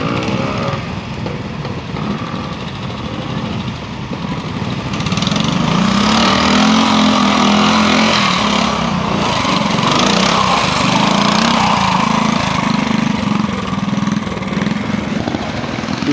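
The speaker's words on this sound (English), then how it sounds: "Colin Benson, Tri-Enfield, Triumph Twin in Enfield frame" Triumph twin engine in an Enfield frame at a pre-65 motorcycle trial, running continuously with a steady droning rasp that grows louder and nearer partway through, mixed with open-air background noise and no talk.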